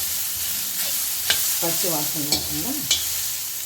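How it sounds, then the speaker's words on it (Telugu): Grated coconut frying in ghee for rava laddu, a soft continuous sizzle with occasional spoon scrapes against the pan; someone speaks briefly over it. "ఈ కొబ్బరి తురుము నేతిలో దోరగా వేసుకుంటున్నాను"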